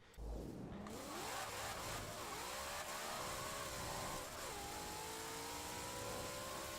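A 1900 HP drag-tuned Ford Mustang in Forza Horizon 4 revs hard, its engine tone climbing and falling in sustained sweeps, loud and steady with no talk.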